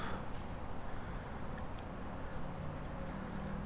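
A swarm of bugs buzzes around a hunter standing on a wooded trail at a property line during Pennsylvania muzzleloader deer season, a steady, close, insect-like drone that fills the whole stretch with no talking.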